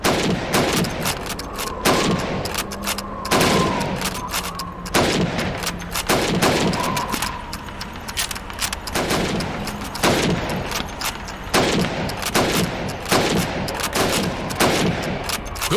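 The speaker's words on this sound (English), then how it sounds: "You have 15 seconds to shoot the helmets." Rifle shots ring out at helmet targets on a Red Army training range in Call of Duty 2, about a dozen sharp loud cracks spaced irregularly over steady background noise.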